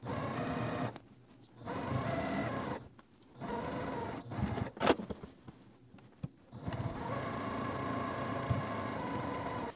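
Close-up, a sewing machine stitches along the ribbon edge of a quilted pillow, running in steady hums broken by brief stops and starts, with occasional sharper clicks in between.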